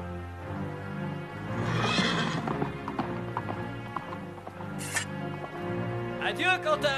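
A horse whinnies and its hooves clip-clop in a French animated period series, set among dialogue, music and other scene noise, with a bright rising cry near the end.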